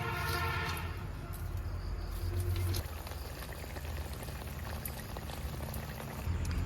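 Pabda fish curry boils in a pot, a soft, steady bubbling and crackling simmer, faint and close, with short low hums rising briefly in the background.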